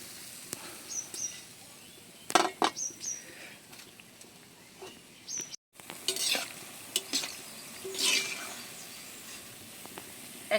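Palm fruit fritters (taler bora) frying in oil, a soft bubbling sizzle with intermittent clinks and scrapes of a ladle, and faint bird chirps in the background.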